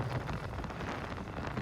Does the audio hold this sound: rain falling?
yes